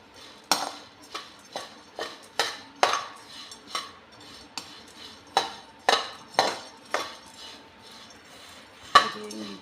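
Homemade wheat porridge (dalia) stirred steadily in a pot: a spoon knocks and scrapes against the metal in a quick, irregular series of about a dozen clinks, close and fairly crisp, with no talk.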